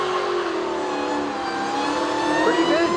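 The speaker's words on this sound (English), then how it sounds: "So a solid rolling burnout to start." A Dodge Mopar car holds a loud, sustained engine roar at high revs during a rolling burnout at a burnout contest, the pitch climbing steadily, with some crowd noise beneath it.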